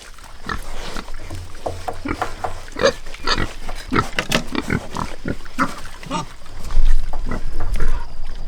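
Pigs grunt and snort repeatedly in short bursts, close by and fairly loud, with a few louder squeals and scuffles toward the end.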